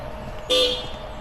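A car horn gives one short, sharp honk nearby, standing out against quiet outdoor background noise at a vineyard in Makilala, North Cotabato.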